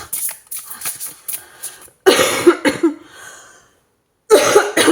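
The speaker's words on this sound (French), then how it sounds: "J'ai encore cette toux et cette gorge qui revient sèche." Several bursts of harsh, dry coughing from a dry throat, close and loud, in clusters separated by brief pauses.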